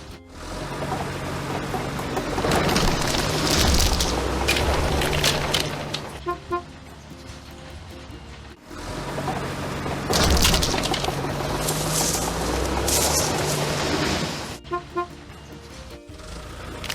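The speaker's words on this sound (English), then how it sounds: "Let's destroy dilapidated constructions." A video game bulldozer knocks down dilapidated buildings, with loud crunching and cracking bursts, clattering debris and engine rumble in two long demolition passes, each ending in sparse clicks.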